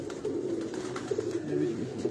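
Breeder pigeons coo in soft, rolling murmurs that overlap steadily, with low background noise around them.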